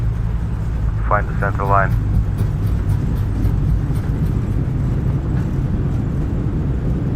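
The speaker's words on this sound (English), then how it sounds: "reversers are out," A FlyByWire A32NX airliner in a flight simulator rolls out after landing with thrust reversers deployed, giving a loud, steady broadband roar throughout while a voice speaks briefly over it.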